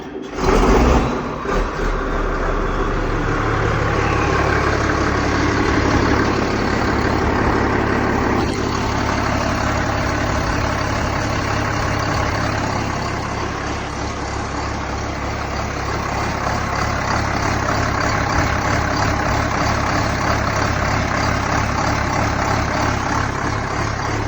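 An Allis-Chalmers 8070 tractor with a Cummins 8.3 diesel idles steadily, a little too low, starting cold: a deep, continuous rumble with a brief burst at the start and a slight dip in pitch midway, alone without talk.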